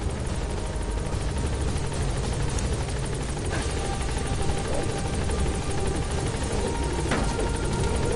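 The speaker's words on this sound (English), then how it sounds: "Board the chopper when you're ready for a mission." A helicopter from Metal Gear Solid 5 drones loud and close, its steady rotor thrum and engine whine running unbroken with no talk.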